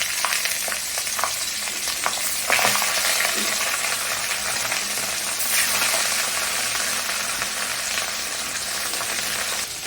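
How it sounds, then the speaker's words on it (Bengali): Catla fish pieces frying in hot oil make a loud, dense, continuous sizzle and crackle close up, with a few faint clinks early on and no talking. "মাছটাকে তেলের মধ্যে এখন ভেজে নেওয়া হচ্ছে।"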